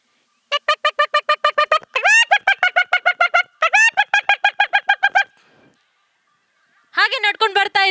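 A performer's voice imitates a chicken clucking, loud and close: bursts of rapid, evenly spaced clucks with brief pauses, a longer run in the middle, then silence before a final quick burst.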